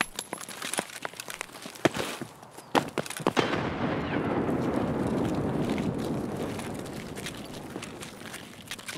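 Grenade blast in the shooter game Escape from Tarkov, scattered sharp cracks and clicks giving way to a long, rumbling, noisy roar that swells and slowly fades over several seconds.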